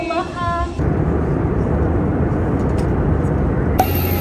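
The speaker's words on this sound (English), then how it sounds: "it's kind of loud because the plane's over there" Broad, steady roar of jet aircraft at a Florida airport just after landing, loud and continuous with a brief higher tone near the start and a hiss at the end.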